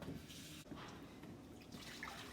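Water pours steadily into a large soup pot for turkey soup, a continuous splashing fill that carries through the whole moment without any voices.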